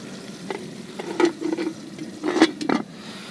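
Potatoes and meat sizzle and fry in a pan while cooking by a riverbank, with a low steady crackle and a few louder stirring scrapes and bursts, close by and without talking.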